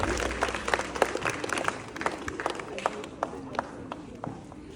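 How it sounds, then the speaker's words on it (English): Applause rises in a school hall for newly nominated student council prefects, a moderately distant and steady patter of many hands clapping, continuing throughout the short stretch. "A big round of applause for them."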